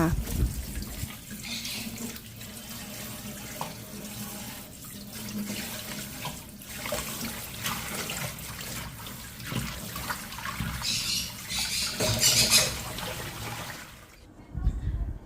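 Lemongrass and galangal rinsed under a running kitchen tap, with a steady stream of water splashing into a sink and shifting as the herbs are moved through it.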